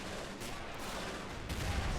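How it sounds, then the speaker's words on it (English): Soldiers opening fire during a hill fort siege in the Men of War Assault Squad game: a steady wash of distant, overlapping gunshots and a low rumble of battle, with a couple of sharper cracks standing out. "a few of those soldiers up there opened some fire"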